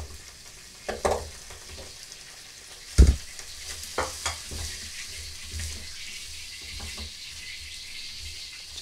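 Chicken feet tipped into a pan already holding bay leaves and lemongrass, with a thump as they drop in, then scattered clacks and a low ongoing sizzle while they are moved around.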